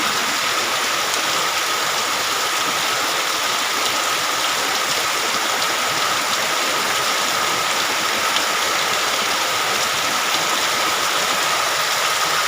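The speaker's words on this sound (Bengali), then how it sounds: "অনেক দূরে বৃষ্টি হইতেছে" Steady, dense hiss of heavy rain pouring without a break in Jamalpur, Bangladesh, an even wash of noise that never rises or falls.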